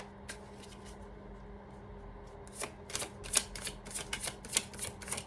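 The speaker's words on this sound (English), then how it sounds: "one more time, a shuffle." Tarot cards are shuffled by hand: after a quiet start, a run of crisp riffling and flicking bursts grows denser and louder, close by, with no voices.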